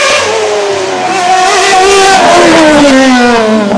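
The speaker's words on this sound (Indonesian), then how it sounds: "Wih, mobil balap." A formula race car engine revving loudly and close, a sustained high whine whose pitch slides up and down as it accelerates and shifts.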